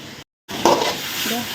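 Masala for a drumstick and potato kara kuzhambu frying and being stirred in a pan, a steady close sizzle broken by a brief silent gap, with stirring scrapes over it.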